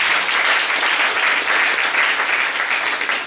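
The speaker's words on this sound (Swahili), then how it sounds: "Tumrudishie Bwana Yesu makofi mengi." A church congregation applauds together, giving dense, steady clapping that stays loud for the whole few seconds and eases off only at the very end.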